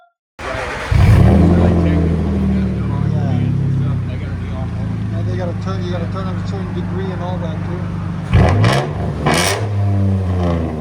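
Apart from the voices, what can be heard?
2005 Nissan Frontier 4.0L V6 straight-pipe exhaust revving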